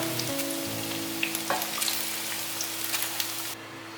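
Tofu frying in oil, a continuous close sizzle with scattered pops and crackles, running under a low steady hum before the frying noise drops away near the end.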